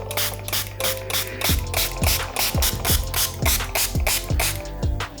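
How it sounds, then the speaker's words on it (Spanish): A hand spray bottle mists water onto a product bottle on a tabletop. A dozen or so close, sharp trigger pumps each release a hissing burst in a steady rhythm, with no voices. "simplemente rociar agua con un spray para que dé una sensación de que la botella es muy refrescante"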